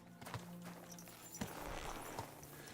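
Faint hoofbeats of a horse clip-clop in a video game, a few soft irregular knocks over quiet background ambience.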